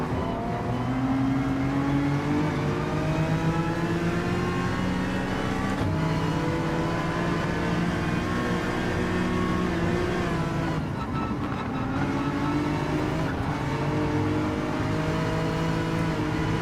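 Honda NSX race car in Gran Turismo 7 on the Nürburgring, its engine droning continuously at high revs with pitch rising and falling through gear changes, loud and close throughout with no talk.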